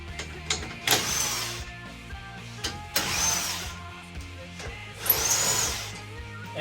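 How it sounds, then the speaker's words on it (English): Three short whirring bursts from an impact wrench removing bolts on a 2007-2014 GMC/Chevy truck headlight assembly, evenly spaced a couple of seconds apart, with quiet mechanical clicks between them. "if you want to use an impact like this, you can to remove these"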